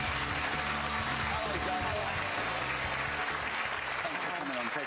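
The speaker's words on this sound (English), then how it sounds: "Give her a round of applause." A television talk-show studio audience claps in a steady, even wash of applause, fairly soft and continuous from start to finish, with low murmuring voices underneath.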